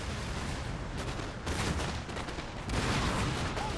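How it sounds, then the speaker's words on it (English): Cannon and musket fire from a Napoleonic battle in the Napoleon Total War video game, with British guns firing canister at French positions: dense, continuous rumbling gunfire that swells louder in bursts, with no talking. "we're now firing canister onto the French positions"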